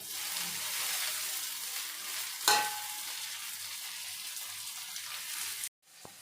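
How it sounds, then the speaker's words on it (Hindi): Tomatoes go into browned onions in a hot pan, giving a steady soft sizzle with a brief clatter partway through, then an abrupt cut near the end. "प्याज थोड़ी सी ब्राउन हो चुकी है और मैं डाल दूँगी इसमें टमाटर।"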